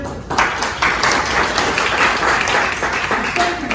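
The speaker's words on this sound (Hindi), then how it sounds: "ताली बजाना जोर से" Audience applause at a corporate celebration program, loud and dense clapping from a crowd that continues steadily, with faint voices mixed in.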